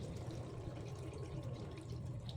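Water poured into a gravel and cement mixture for building a charcoal stove, a steady low gushing, splashing wash that runs continuously at moderate loudness, with no talking.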